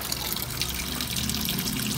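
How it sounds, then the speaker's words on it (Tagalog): Water rushes and trickles steadily into the drum of a Whirlpool 7.8 kg automatic washing machine, a continuous close hiss with a low hum underneath. "Ayan, release na siya ng tubig,"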